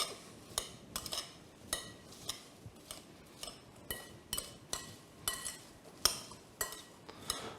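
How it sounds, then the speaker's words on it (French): Chopped rhubarb and sugar being stirred in a bowl, a quiet steady series of clinking taps from the utensil against the bowl, repeating roughly twice a second throughout. "Maintenant, on va incorporer le sucre à l'intérieur. Et on va mélanger."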